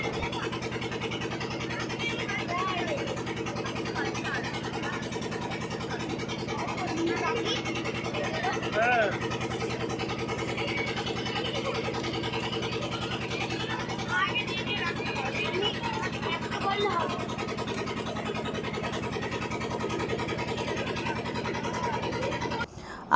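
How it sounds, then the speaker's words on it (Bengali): A motorised country boat's engine chugs on and on during a river trip at Taki, a steady mid-level throb beneath constant chatter and children's voices. "নৌকাতে বেশিক্ষণ থাকলে এই যে ভটভটির শব্দে মাথা ধরে যাওয়ার সম্ভাবনা"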